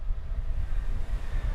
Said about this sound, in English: So if you hear any noise in the background, it's the train tracks.